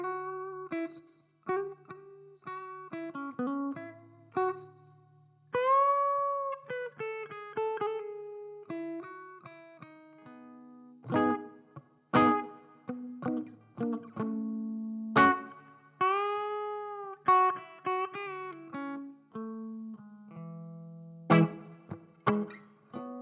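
Electric guitar on the bridge pickup through an Engl Ironball 20 amp head, playing clean and lightly effected phrases with ringing chords, single notes and pauses between bursts, loud and alone.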